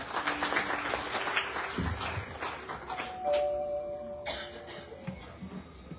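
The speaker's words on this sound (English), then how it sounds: "Please give her a round of applause." Steady applause from a crowd at a Ganesh Utsav celebration fills the space, a dense patter of clapping that continues throughout, with some tonal sounds joining toward the end.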